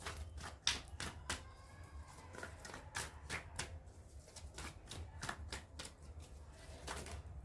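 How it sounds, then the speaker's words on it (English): Tarot cards are shuffled in a run of crisp, rapid riffling clicks and soft slaps, close up and fairly quiet, continuing in irregular bursts throughout. "No, I think I should still shuffle."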